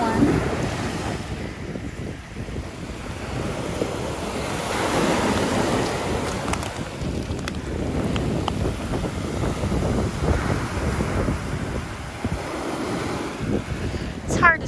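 Ocean waves wash continuously onto Sanibel beach at night, a steady rolling surf with wind gusting across the microphone throughout.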